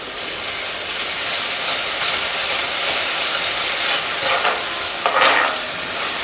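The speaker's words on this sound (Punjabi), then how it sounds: "ਇਸ ਨੂੰ ਵੀ ਆਪਾਂ ਚੰਗੀ ਤਰ੍ਹਾਂ ਭੁੰਨ ਦੇਣਾ ਹੈ" Onions with ginger garlic paste frying in a pan, a loud, dense close-up sizzle throughout with spatula scrapes and stirring bursts toward the end.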